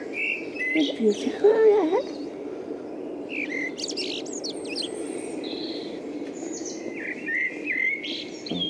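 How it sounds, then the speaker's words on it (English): In a park, a blackbird sings fluting phrases over steady outdoor ambience while other birds chirp at a distance, and a person speaks briefly near the start. "Another blackbird."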